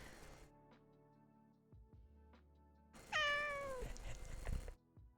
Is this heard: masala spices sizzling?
no